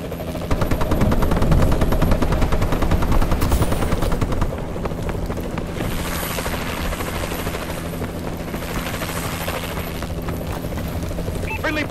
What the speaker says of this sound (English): Bombing run clearing the way.